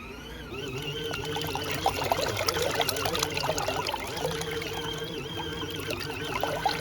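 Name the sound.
water being poured out of a mini washing machine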